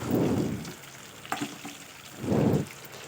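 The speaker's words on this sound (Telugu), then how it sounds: "కొంచెం కరివేపాకును కూడా వేసుకుందాము కొంచెం దూరగా వేగనివ్వాలి" Curry leaves and chillies sizzle and crackle in oil in two bursts, loud at the start and again near the end, with quieter frying and a few pops between.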